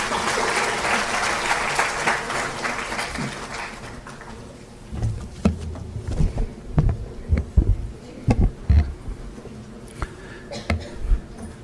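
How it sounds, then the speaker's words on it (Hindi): An audience applauds at an Indian government event honouring an Education Ministry official: a dense wash of clapping for about four seconds, then fading into scattered low thumps and knocks with faint background hum. "तो आइए हम सब तालियों की गड़गड़ाहट से उनका सम्मान करें।"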